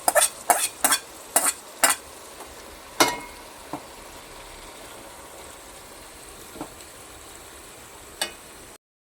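Marinated chicken going into a curry pan for biriyani and being stirred, a burst of sharp metallic scrapes and clanks at first, then sparser spoon knocks over a faint simmering hiss, no talking.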